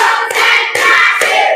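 Schoolchildren clapping hands together in a classroom, a few sharp group claps at a steady counted pace, loud and close.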